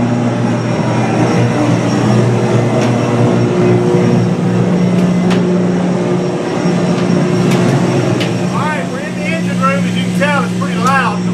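Simulated engine room sounds aboard the ship Laffey: loud, continuous machinery drone with a steady low hum fills the space, with faint chirping sounds briefly rising near the end.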